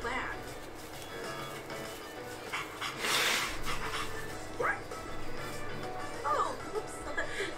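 A dog in the video game Persona 3 Reload gives short, intermittent yips and whimpers over a continuous low background drone.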